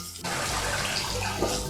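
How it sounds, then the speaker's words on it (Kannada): Water is poured into ground curry masala in a pan for capsicum curry, starting abruptly after a brief quiet moment and running as a steady, close splashing stream. "ಇದಕ್ಕೆ ಇನ್ನೊಂದು ಸ್ವಲ್ಪ ನೀರು ಹಾಕೊಳ್ತೀನಿ."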